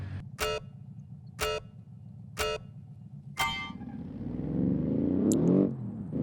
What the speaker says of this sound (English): I just really like this sort of low rippling sound that this car has